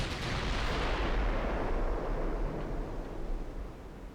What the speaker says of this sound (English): While still firing all my guns